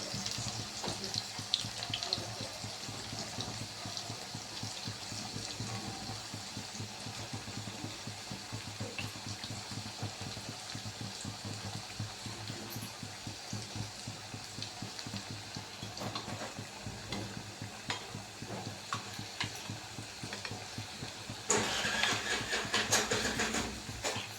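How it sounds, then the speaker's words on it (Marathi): Alu vadi (colocasia rolls) fry in hot oil in a pan until crisp and brown, giving a faint, steady sizzling hiss throughout with a slightly louder crackle near the end. "एकत्रित टाकून छान असे ब्राऊन कलर येईपर्यंत तळून घेणार आहोत कुरकुरीत होईपर्यंत"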